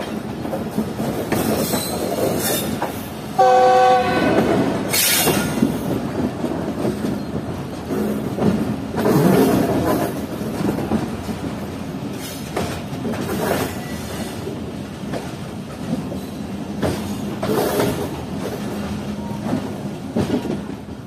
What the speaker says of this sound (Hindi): हमारी 40 डाउन जाफर एक्सप्रेस लग रही थी जैकबाबाद रेलवे स्टेशन के मेन प्लेटफॉर्म पर